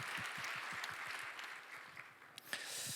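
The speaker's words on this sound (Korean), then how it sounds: "우리 대학부 찬양팀에도 우리 한번 박수하겠습니다" Church congregation at a young adults' service applauding the praise team, a steady wash of clapping with a few sharper claps standing out, fairly faint and distant.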